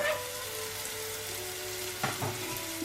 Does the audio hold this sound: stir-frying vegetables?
yes